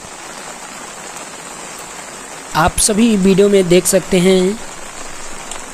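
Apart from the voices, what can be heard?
heavy torrential rain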